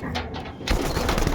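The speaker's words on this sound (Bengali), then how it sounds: "বন্ধুরা, পায়রা বের করলাম, ভালো করে ধরবেন" A pigeon suffering from pox coos softly while held in the hand for treatment, with brief low calls over rustling handling noise.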